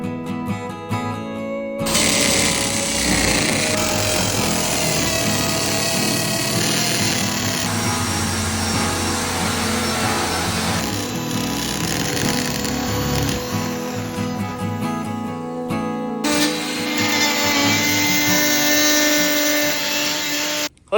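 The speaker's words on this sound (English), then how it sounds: "You drilling holes over there?" A power tool runs steadily for long stretches while holes are drilled in an abandoned garage being converted into a tiny house. It is loud and close, with a couple of brief pauses, over background music.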